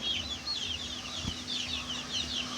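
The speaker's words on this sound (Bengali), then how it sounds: "এগুলো আমাদের 4টা টাইগার মুরগি, আর 2টা আছে হচ্ছে দেশি মুরগি" Tiger and local breed chickens cluck on a village farm on a hot day, a soft continuous run of close clucking calls, moderately quiet with no speech.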